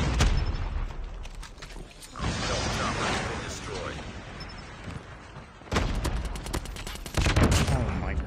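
Rapid bursts of GKS submachine gun fire in a Call of Duty match crackle loudly in dense automatic volleys, stopping and restarting several times, while a player talks over parts of the action.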